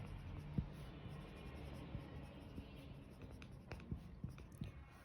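Quiet pen or pencil strokes on paper while writing a math answer by hand, faint scratchy taps and short scribbles scattered irregularly over a soft background hiss.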